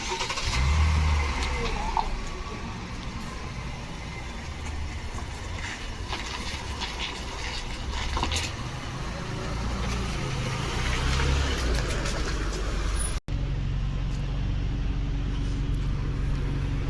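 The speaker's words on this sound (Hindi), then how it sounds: "मैं लेकर आ रहा हूँ गाड़ी।" A car engine running and driving along in Saudi Arabia, a steady low rumble with road and engine noise throughout, a brief click cutting in near the end before the rumble continues.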